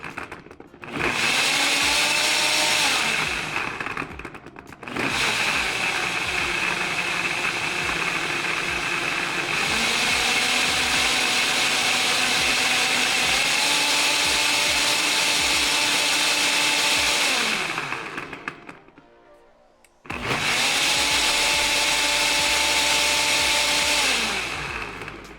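NutriBullet 1200 watt blender running loud and steady in several long bursts, its motor whine shifting pitch as the contents break down, with brief pauses between runs and no talking.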